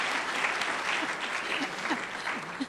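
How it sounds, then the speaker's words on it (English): An audience at a lecture hall breaks into steady, moderately loud applause lasting a few seconds, a dense patter of many hands clapping with no clear voices. "Was somebody applauding that?"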